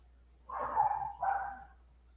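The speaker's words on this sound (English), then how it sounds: "I said I hear them dogs." Dogs bark twice in quick succession, faint and distant, at an outdoor gathering of a kennel or field-trial group. There is quiet air around the barks and no one talks over them.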